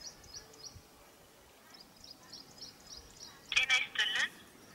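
A mobile phone call to a free agricultural information line rings with a faint, evenly repeating ringback tone, followed by a louder burst of line tones near the end, while someone speaks.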